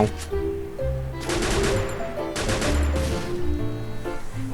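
Rapid gunfire bursts and a heavy blast in a shooting video game, loud and close, with repeated rattling volleys separated by brief gaps and deep booming impacts underneath.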